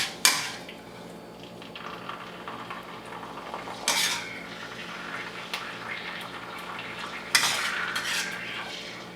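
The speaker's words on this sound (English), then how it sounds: "Give her a last little stir here." Kung Pao chicken stirred in a pan, with three distinct scraping clatters of a utensil against metal spaced a few seconds apart over a soft background sizzle.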